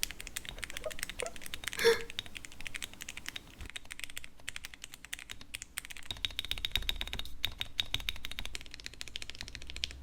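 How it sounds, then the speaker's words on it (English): Steady typing on a mechanical keyboard, keys clacking in fast irregular runs with a few pauses, close and fairly quiet. "we're gonna listen to Squashy Boy sound test"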